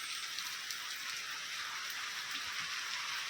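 Monsoon rain falls steadily on a rural farm, a soft even hiss of drops on surfaces, fairly faint and unbroken, with no voices over it.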